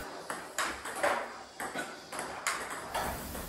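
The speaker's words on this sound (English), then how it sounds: "You can hear the impact I am having on the ball, and the sound of the ball on the table." Table tennis rally with a powerful forehand, sharp ball strikes and bounces on the table ringing out in a quick irregular rhythm, with a hollow indoor echo.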